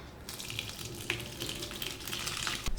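Curdled milk poured through muslin cheesecloth for homemade paneer, whey splashing and draining in a steady, fairly loud liquid rush that ends with a thump.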